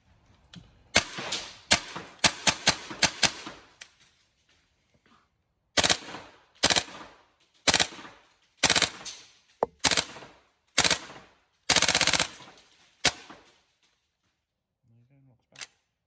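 A Tokyo Marui MP7 gas blowback airsoft gun fires loud, sharp shots, first a quick burst of rapid shots, then a string of single shots spaced about a second apart, with silence between.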